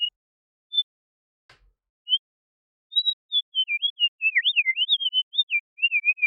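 Synthesized bird chirps from a modular VCV Rack patch routed through a mixer: a few isolated tweets at first, then a quick warbling run of pitch-sliding chirps, clean and alone against silence.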